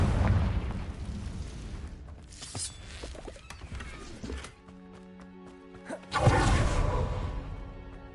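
A Confringo blast spell in Hogwarts Legacy erupts as a whooshing, booming burst, followed by a quieter stretch of ringing magical tones and then a second broad explosive rush near the end.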